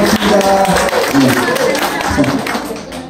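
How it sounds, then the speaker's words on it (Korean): A small audience claps for the music chairman at a singing class, steady dense hand clapping throughout, mixed with voices talking over it at close range. "음악 담당해 주시는 우리 회장님한테 큰 박수 고맙습니다"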